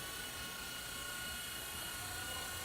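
A New Art Tech Firefox 4Ch RC helicopter hovers close by, its rotor and motor making a steady, dense whirring drone throughout with no talking.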